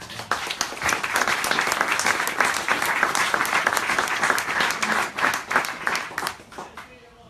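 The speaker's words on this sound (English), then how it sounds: "I'd like to give them a big round of applause" A roomful of people at a Startup Toledo talk gives veterans a big round of applause, a loud, dense and sustained burst of clapping that tapers off at the end, with voices mixed into the noise.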